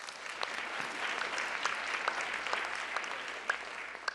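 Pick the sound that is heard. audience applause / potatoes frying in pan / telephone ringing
audience applause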